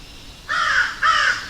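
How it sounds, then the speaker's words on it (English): Two loud, harsh crow caws close by, each about half a second long and separated by a short pause, heard outdoors at the site of an old schoolhouse. "I got crows screaming at me."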